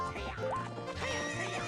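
A horse in the video game Ocarina of Time gives a loud, wavering neigh over game music with faint hoofbeats.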